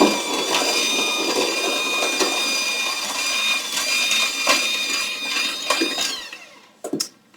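Electric hand mixer beating Grinch cookie dough, starting on low speed: a steady high whine with clattering beater knocks against the bowl, running continuously for about six seconds before switching off, followed by a couple of brief knocks.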